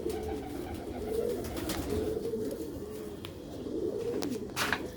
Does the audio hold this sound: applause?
no